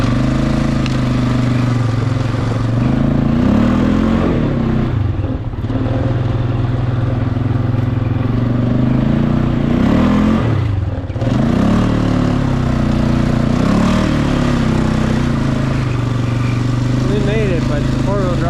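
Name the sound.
Polaris Sportsman 500 ATV engine climbing a hill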